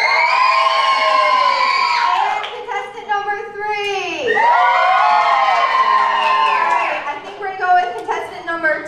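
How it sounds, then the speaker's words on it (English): Church audience at a Christmas music event screaming and cheering loudly, a dense crowd roar with high children's shrieks and shouts sustained throughout, near and intense. "we're going to go by screams and loud cheers"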